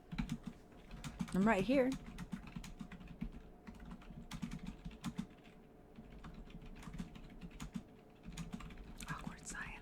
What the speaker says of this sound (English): What you typing there?